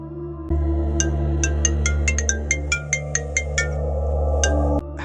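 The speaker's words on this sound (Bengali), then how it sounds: "ফোনটা ফোনটা বাজছে কোথা থেকে আমি ঠিক বুঝতে পারছি না" A phone rings in a Bangla horror cartoon, sounding as a quick series of bright electronic tones over a steady low hum, then stopping abruptly.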